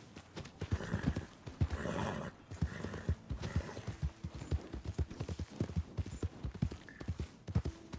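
Hooves clip-clop in a steady, busy rhythm through a dense game soundscape in Red Dead Redemption 2, with a horse's neigh rising over the clatter; loud and continuous throughout.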